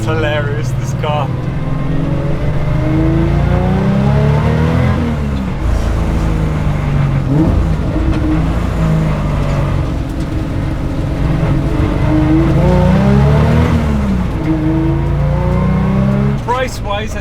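A restomod Porsche 911 engine revs and pulls hard through the gears on the Oberalp Pass, rising and falling continuously, with a person talking over the roar.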